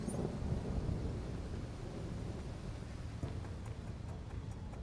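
Rain with rolling thunder in an Xbox Series X investigation game set at Quartz Labs, a steady wash of rainfall under low rumbling, with faint ticks later on and no voices.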